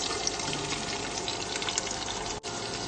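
Tomato and beans tipped into onions already frying in a pan for vegetable pulao, making a steady, close hiss of frying with a brief dropout near the end and no speech.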